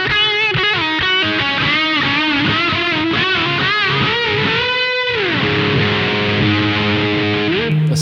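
Fuzz Face fuzz emulation on a Source Audio pedal, a thick, saturated guitar tone playing a busy, choppy run of notes that ends on a long sustained bend, steady and loud with no voices.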